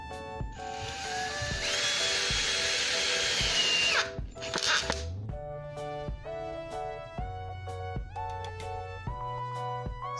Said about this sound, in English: I'm going to show you how to put a screw into a stud